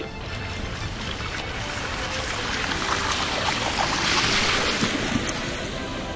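Inöe Sweemie 2 electric scooter ridden through water, a steady wash of splashing and churning with wind noise, swelling slightly toward the middle and holding throughout without voices.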